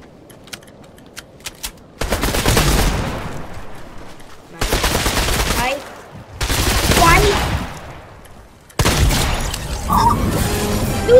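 Gunfire from a sniper rifle in Fortnite: four or five loud, dense bursts of shooting a couple of seconds long, separated by short quiet gaps with faint background noise.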